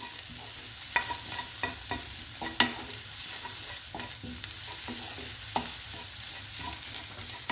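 Peeled, grated ginger and two crushed garlic cloves frying in a pan, stirred with a spoon: a soft steady sizzle with a few sharp utensil knocks against the pan, close and moderately quiet, no talking.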